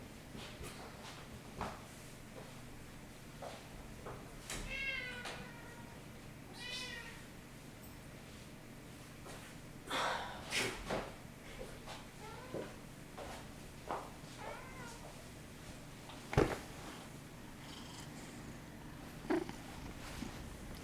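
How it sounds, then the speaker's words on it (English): A cat, Marcus, meows several times over a quiet room background, with soft purring and a few faint knocks and footsteps, moderately close and without talking. "That's a cat."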